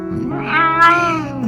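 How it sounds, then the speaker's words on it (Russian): An underfed cat lets out one close, plaintive meow that rises and bends downward over about a second, clear against a quiet room. "Ты кот."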